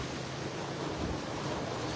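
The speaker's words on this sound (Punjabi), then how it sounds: "ਅੱਜ ਬਹੁਤ ਜ਼ਿਆਦਾ بارش ਆਈ ਹੈ" Steady, dense roar of heavy rain and floodwater across a flooded city, a constant broadband wash with no breaks, moderately faint and without speech.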